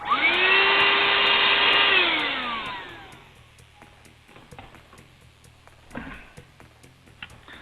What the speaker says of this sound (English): let me vacuum him up, even though he's dead